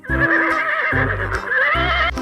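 A white toy horse gives a loud, close whinny that quivers in a steady stream for about two seconds, with low thumping pulses beneath it and no talk over it.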